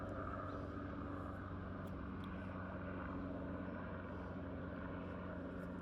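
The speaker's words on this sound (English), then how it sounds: "Helicopter." A helicopter flies overhead, its steady low engine and rotor drone sustained and moderately distant throughout, with no talk over it.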